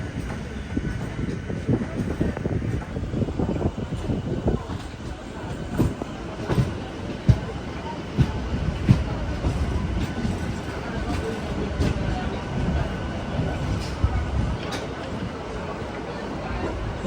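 Trains hauled by WP4 and WP7 steam locomotives roll past at a station platform, a steady rumble with rhythmic wheel clatter and occasional clanks, moderately close, with faint voices in the background.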